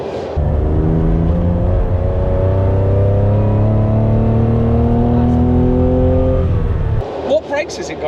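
A Porsche 911 with a 2.2-litre engine revs hard while driving, its loud, steady engine note rising smoothly through high revs for several seconds before easing off, with a brief pause in the roar near the end.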